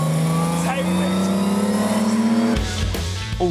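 Classic MGC sports car engine running with a steady, rising rev, then a sharper change in tone near the end, loud and close with a continuous mechanical drone.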